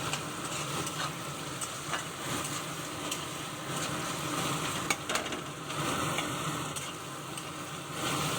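Boiled eggplant sizzles in a pan with chopped tomato and salt, a soft, steady frying hiss broken by occasional stirring scrapes and clicks, heard at moderate distance without speech.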